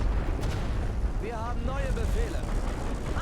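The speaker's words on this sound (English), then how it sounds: "why aren't we taking out that artillery yet? They're hitting us." Artillery in The Great War: Western Front rumbles as a low, continuous barrage of distant booms, steady and dense, with a voice speaking briefly over it.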